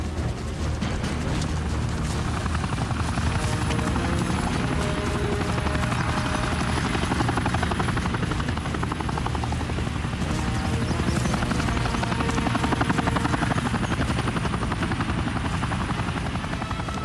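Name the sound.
helicopter landing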